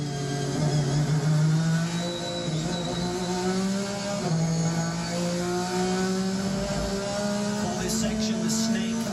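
A race car accelerating hard around Virginia International Raceway, its engine note rising in long repeated sweeps through the gears, loud and close throughout, with a commentator talking over it.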